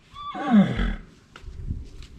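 A horse in a stable gives one loud, close whinny that rises sharply and trails off into shaky descending neighs, followed by a few faint knocks and shuffles.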